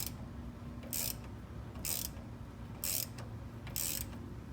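Tightening a pushrod tube on a watercooled VW Vanagon engine by hand, likely an Empi replacement tube, gives four short, bright metallic ratcheting clicks about a second apart over a steady low hum.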